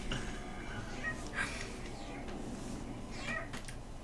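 A cat meows twice, each meow brief and moderately faint, over a dense, steady background wash.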